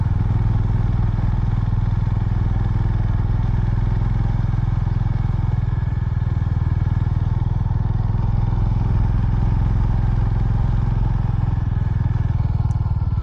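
A motorcycle climbs a steep uphill track, its engine droning loud and steady throughout with constant close mechanical rumble and clatter, no talk.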